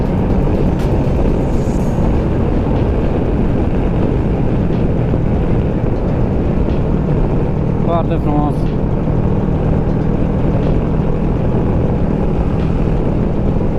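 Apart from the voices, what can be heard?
motorcycle engine while riding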